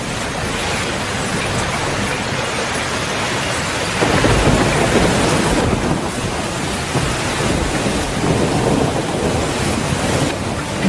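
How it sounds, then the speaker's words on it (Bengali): Heavy rain pours steadily with rumbling thunder in an animated rural riverside scene, a dense continuous roar that swells louder around the middle and stays constant throughout, with no voices. "তুই এই বৃষ্টিতে ভিজছিস কেন?"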